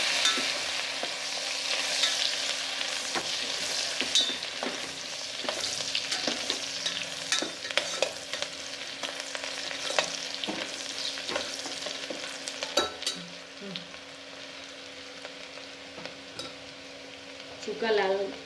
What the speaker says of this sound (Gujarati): સૂકી ડુંગળી જે ઝીણી કટ કરી હતી એ નાખીશું પહેલાં। એને થોડી વાર કકડાવા દઈશું।